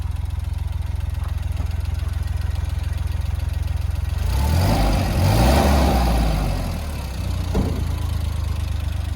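A Suzuki Jimny engine runs after a fuel and air repair, a steady idle that swells into a louder revving burst midway before settling back to a low hum, close by with no talk.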